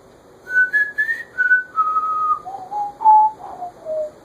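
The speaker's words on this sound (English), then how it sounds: "forgot I'm not supposed to whistle on my videos" A person whistles a slow melodic tune, clear and close, notes gliding gradually downward in short phrases.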